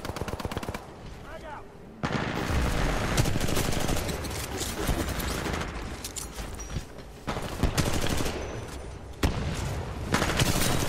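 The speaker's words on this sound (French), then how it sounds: "Là, il y a des tirs" Gunfire in the shooter game Titanfall 2 comes as loud rapid automatic bursts and single shots, broken by a short quieter pause, with voices talking faintly beneath.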